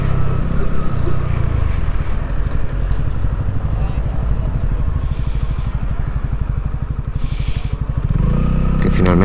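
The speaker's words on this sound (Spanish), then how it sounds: "que no suena una mierda esa moto sin escape" A Kawasaki Ninja Euro 5 motorcycle ridden without an exhaust, its loud, rapid engine pulse close and dominant throughout, with a voice faintly heard at times.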